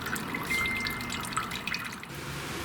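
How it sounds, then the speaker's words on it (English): Old gasoline draining out of a lawn tractor after winter storage, a steady close trickle and drip of liquid running into a container. "I will drain out all the old fuel from this machine first."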